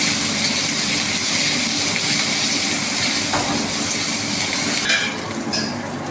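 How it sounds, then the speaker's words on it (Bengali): Chopped onions and green chilies frying in hot oil, a steady close sizzling hiss that carries on without a break, with no voices. "তেল গরম হয়ে গেছে, পেঁয়াজ দিয়ে দিলাম, আমি কাঁচা লঙ্কা দিয়ে দিলাম।"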